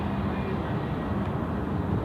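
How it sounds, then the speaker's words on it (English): A Jetstar Airbus A321neo jet taxiing along a taxiway at Sydney Airport, a steady loud engine rumble and roar that holds evenly throughout without voices. "This is a Jetstar 321neo, Sydney to Rarotonga, one Jetstar 141, taxiing along Alpha at the moment."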